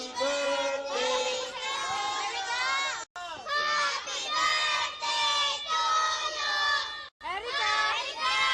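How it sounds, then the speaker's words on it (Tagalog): A group of young children sings happy birthday together, loud and shouty, in three long phrases separated by brief breaths, their voices close and overlapping. "Okay, 1, 2, 3, sing! Happy birthday!"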